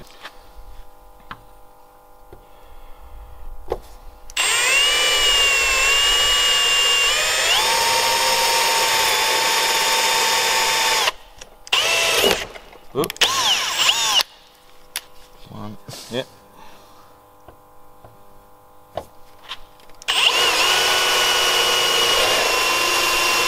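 A power drill whirs loudly in two long sustained runs, with shorter rattling bursts and handling noises between them.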